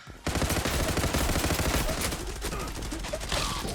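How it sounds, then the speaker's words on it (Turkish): Pump shotgun fire in the online shooter Zula: a sudden burst of rapid, overlapping gunshots and crackling impacts that continues densely for several seconds, loud and close, with no speech. "Hele bu pompalıyla aldığım çoklu kıyımlar cabası müthiş bir silah."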